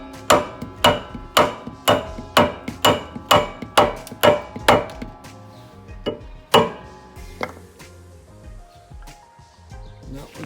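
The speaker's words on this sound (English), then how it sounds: "So we got a nylon mallet, and I'll show you what I'm talking about. We're gonna bump this up." A nylon mallet knocks a rear drag spring bracket on a Boss 302 into alignment with a bolt hole: about a dozen sharp, ringing knocks in a steady rhythm, then a few slower, spaced hits that fade out.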